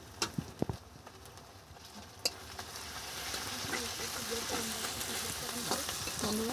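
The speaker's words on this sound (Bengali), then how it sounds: "দেখো রসুনটা পুরোটাই দিয়ে দিয়েছি, এটাকে আমি হালকাভাবে কষিয়ে নেব।" Garlic, slit green chilies and onion sauté lightly in a pan, a steady frying sizzle with occasional spoon scrapes and clinks, close and moderately loud.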